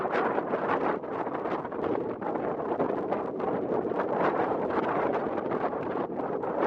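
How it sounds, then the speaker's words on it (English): Steady wind buffeting a microphone, a continuous broadband rush with gusty fluctuations throughout, no voices. "It's very slightly windy."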